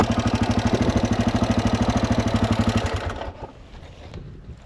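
A rebuilt Honda XR500 single-cylinder motorcycle engine thumps in a fast, even rhythm close by, then cuts off abruptly about three seconds in, leaving faint rumbling.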